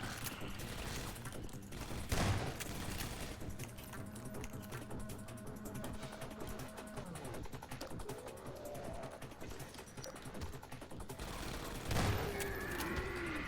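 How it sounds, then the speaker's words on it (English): Two shotgun blasts in Half-Life 2 Episode 1, loud and close, spaced about ten seconds apart over steady game ambience and machinery hum. "I have shotguns now, so not afraid to use this."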